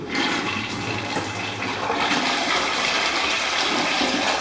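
A household toilet flushes in an apartment bathroom, a steady rushing swirl of water that swells louder partway through and keeps running to the end, with no voices.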